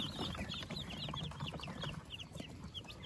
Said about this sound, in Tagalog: Yan, so napakaganda po ng mga sisiw natin, no?